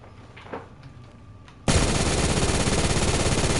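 Light machine gun fire in the Phantom Forces video game breaks out suddenly as a loud, continuous rapid burst after a quiet stretch of faint background noise, and keeps going to the end.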